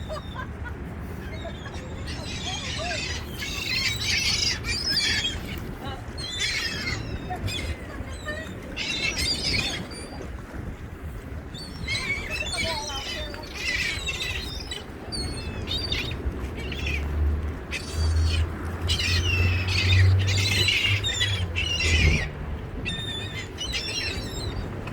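Seagulls squawk and cry over the Hudson River, a dense overlapping chorus of harsh calls in open air, with steady wind or water noise and low rumble underneath.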